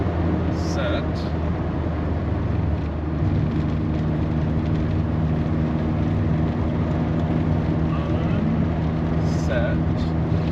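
A 1989 Volkswagen Cabriolet with 100 horsepower cruises at about 55, giving a constant broad road and engine roar from inside the car, with faint voices now and then.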